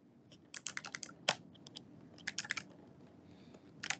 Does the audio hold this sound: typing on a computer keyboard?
yes